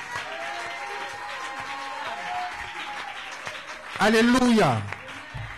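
A church congregation bursts into a short round of applause and cheering near the end, after a stretch of a pastor preaching loudly in French.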